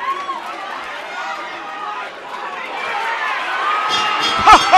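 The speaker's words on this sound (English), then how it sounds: "The crowd on their feet, they're lapping it up." Crowd at a women's boxing superfight roars and cheers while on its feet, a dense, swelling mass of voices with a commentator talking over it and louder bursts near the end.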